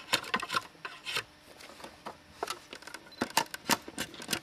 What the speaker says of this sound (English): So I'll take the corners off, but I'm also going to taper it.